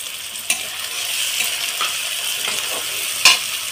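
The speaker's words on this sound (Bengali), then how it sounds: "তারপরে কিছুটা কড়াইশুঁটি দিয়ে দিলাম।" Green peas sizzle in a pan of oil with browned onions, spring onions and chopped green chilli, a steady close frying hiss broken by a few sharp spatters and stirring clinks, with no voices.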